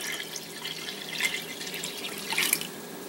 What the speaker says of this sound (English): I'm just going to add water to fill up the whole pot.